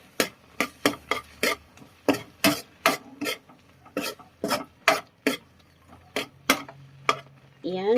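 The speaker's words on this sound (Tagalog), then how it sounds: "At muli natin itong haluin." Guava jam is stirred in a pot with a spoon, giving a steady series of sharp scraping knocks, roughly two per second, close and clear, with a voice briefly starting at the very end.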